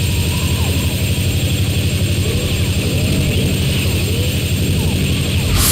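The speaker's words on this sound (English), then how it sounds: "Okay, that's the helicopter taken down." Helicopter in the video game TimeSplitters 2, Siberia level, a steady loud rotor and engine drone with rhythmic low chopping, continuous throughout.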